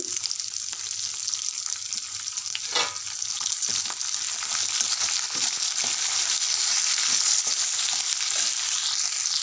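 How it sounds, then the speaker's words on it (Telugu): Green chillies and garlic frying in oil in a pan: steady close sizzle and crackle with occasional stirring scrapes and small pops throughout. "పచ్చిమిర్చి వేగిపోయినాయండి, తీసి పక్కన పెట్టుకోవాలి"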